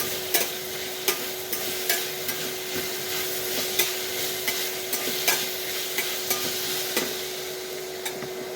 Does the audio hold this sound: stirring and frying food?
yes